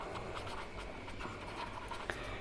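Pen writing an accountancy entry on paper, a steady soft scratching that runs throughout at close range with one brief tap near the end.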